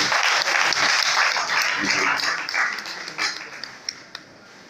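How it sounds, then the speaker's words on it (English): Loud, sustained applause from an audience at a book launch event, dense clapping filling the whole stretch before thinning out toward the end with a few isolated claps. "Please let's give him a round of applause for everyone."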